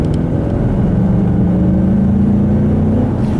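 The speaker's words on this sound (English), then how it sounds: "it almost sounds like a GT with the way that engine sound is" A 2015 Ford Mustang EcoBoost turbo four-cylinder engine revs steadily upward with a rising drone and whir, loud and close, with no voices.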